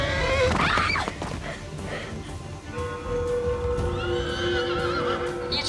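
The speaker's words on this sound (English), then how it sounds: "You're trying to tell me this random horse just appeared out of thin air?" A horse whinnies loudly and close by at the start, followed by quieter rustling and further drawn-out tonal calls later on.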